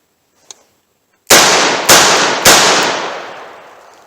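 Three sharp, loud gunshots from a .38 Special snub-nose revolver ring out about half a second apart, each with a long decaying echo, after a faint click.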